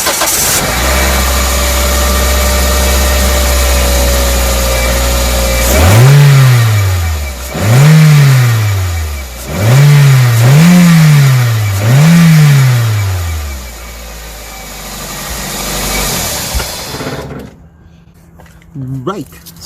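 A Toyota Celica engine cranks and fires, then revs in four quick rising-and-falling bursts over a steady idle, loud and close, before settling and shutting off.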